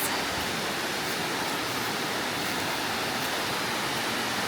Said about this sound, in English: Wider river, rougher water.